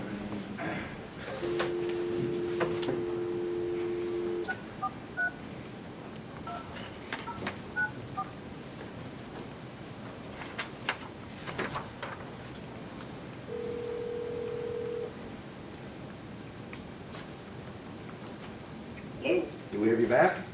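Touch-tone telephone keypad tones are dialed to reconnect a quarantined city manager calling in to a city commission meeting, with short bursts of beeps at intervals against room noise and background chatter.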